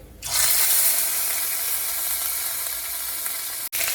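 Dry red chillies and bay leaves hit hot oil and set off a loud, steady broadband sizzle that holds for several seconds, with a brief break near the end.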